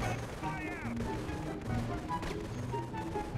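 Rapid gunfire and explosions from the Red Alert 2: Yuri's Revenge strategy game, a steady dense clatter of shots layered over game music and effects throughout, with a voice talking over part of it.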